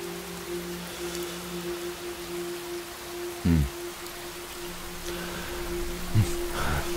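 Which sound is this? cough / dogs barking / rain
rain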